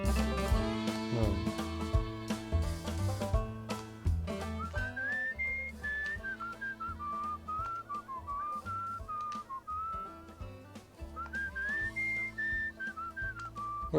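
A melodic whistled tune plays in the video game Where The Water Tastes Like Wine, wandering up and down over soft sustained musical accompaniment, clear and continuous throughout.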